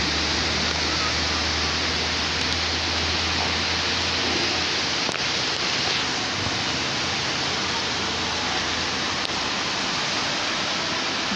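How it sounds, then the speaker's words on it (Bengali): Steady rain falls on a college field in Bogura, a dense, continuous hiss that stays loud and even for the whole stretch, with only faint background murmur beneath. "চারদিকে শান্তির বৃষ্টি হচ্ছে বগুড়া সরকারি আজিজুল হক কলেজ এর মাঠের দৃশ্য"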